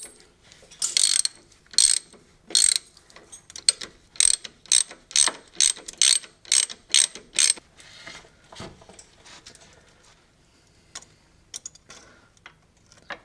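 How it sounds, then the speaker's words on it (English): Ratchet wrench on an extension with a 13mm deep socket, working a front shock mount on a C5 Corvette; a quick run of sharp ratcheting clicks in bursts, close and loud, then tapering to sparse faint clicks, no talk. "and a ratchet."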